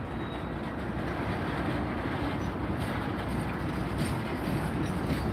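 A freight train rumbles past in a steady, heavy low roar that holds without a break and has no voices over it.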